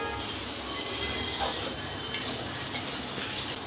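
Raw mango pickle being stirred with sugar in a pan: steady close scraping and clinking of a utensil against the pan over a soft sizzle, continuous with small rhythmic bursts.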